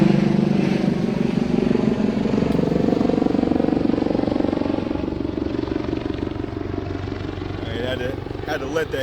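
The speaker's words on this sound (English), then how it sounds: "Had to let that helicopter go by." A low, steady engine drone of an aircraft, likely a helicopter, hangs throughout, fading slightly as it passes, with a voice talking over it.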